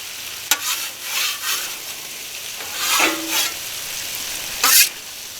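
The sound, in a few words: butter sizzling in a frying pan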